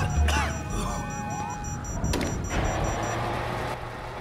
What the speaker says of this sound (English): Fuck, you hear that? Sirens!